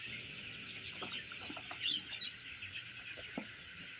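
Several colour bird broiler chickens, 21 days old, cluck and chirp softly while they are weighed on a scale. A continuous high chirping chorus runs underneath a few scattered low clucks and handling noises, and nobody talks.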